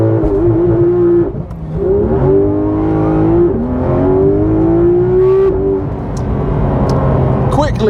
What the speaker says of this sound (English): let's see how quickly I can get to 60 miles an hour.